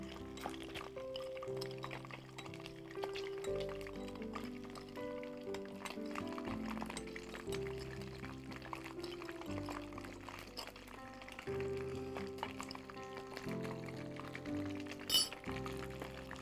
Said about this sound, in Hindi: अच्छी तरह से इसको घोलना है ताकि चीनी बिल्कुल पानी में घुल जाए।